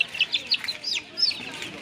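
Baby chicks handed out at a village poultry distribution chirp in a rapid run of thin, high peeps, several birds close together, with faint voices and background murmur underneath.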